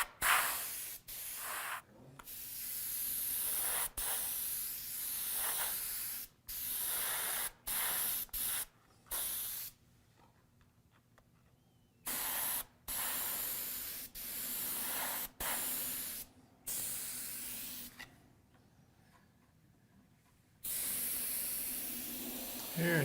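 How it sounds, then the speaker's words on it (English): Candy paint sprayed onto a figure comes through as repeated bursts of close, steady spray-gun hiss separated by short silent pauses, with no talking. "It's getting overspray, because we're going to paint that a different color."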